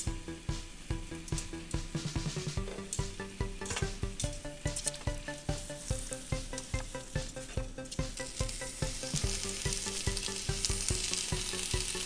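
Tomatoes and chiles cook in a pan for homemade salsa, making a loud, continuous sizzle with rhythmic pulses over a steady music-like backdrop.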